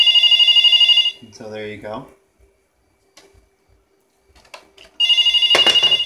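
A telephone rings through a homemade phone switcher, loud close electronic rings in two bursts separated by someone speaking briefly and a short quiet gap, with other faint clicks between.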